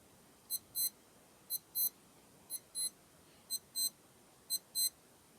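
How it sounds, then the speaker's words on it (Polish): A Casio AE-1500 digital wristwatch alarm beeps in a steady repeating pattern, a short beep and then a longer one about once a second. The beeps are thin, high and alone. "jeszcze Wam pokażę jak brzmi ten alarm, może będzie tutaj to słychać"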